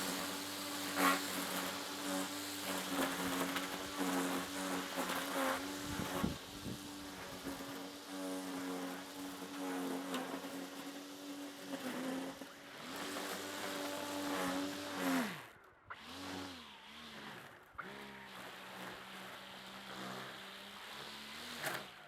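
A Greenworks/Kobalt 80V cordless line trimmer runs close by with a steady electric whine that dips and rises in pitch as the throttle changes, dropping off briefly before spinning back up.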